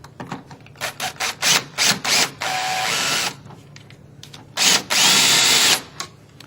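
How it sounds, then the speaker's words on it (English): Cordless power drill driving screws into wall trim, a series of short whirring bursts with pauses between, then two longer sustained runs, close and loud. "and go ahead and secure it with screws."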